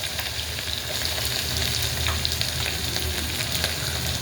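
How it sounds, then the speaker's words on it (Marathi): Finely chopped onion frying in oil with cumin, mustard seeds and a bay leaf, a steady moderate sizzle with faint crackles and a low hum underneath, continuous and close with no talking. "आता आपण कांदा टाकून घेऊया बारीक चिरलेला."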